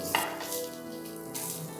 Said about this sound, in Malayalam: വെളിച്ചെണ്ണയാണ് ഇത് കുറച്ചെടുത്തിട്ട് നമ്മൾ വറുക്കണം.